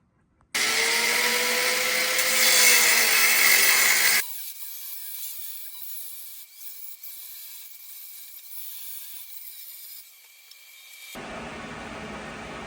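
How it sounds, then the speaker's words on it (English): A power tool fitted with a grinding bit bites into the steel axle tube of a Ford 8.8 rear axle being narrowed, a loud harsh whine for about four seconds before cutting off, followed by quieter shop hum. "put a grinding bit on that"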